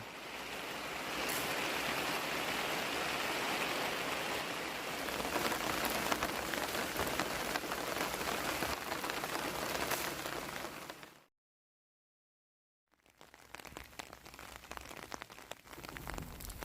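Steady rain patters on a campsite along Route 3060 between Pak Chong and Wang Nam Khiao during Typhoon Noru, a dense continuous hiss interrupted by a brief silent gap before resuming.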